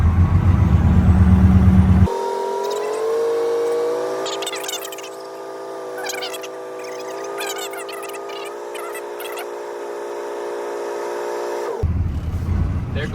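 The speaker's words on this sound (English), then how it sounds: "There goes my air governor cutting out between 120 and 140 PSI." A truck idles in the cab while its air system builds pressure, the engine rumble giving way to a long steady whistling hiss of compressed air with faint clicks, ending in a sudden release as the governor cuts out.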